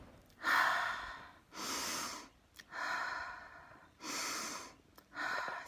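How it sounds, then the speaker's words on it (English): A person takes slow, deep breaths, each long inhale and exhale clearly audible and close, about five breath sounds in a steady calm rhythm with no talking. "take 3 deep breaths"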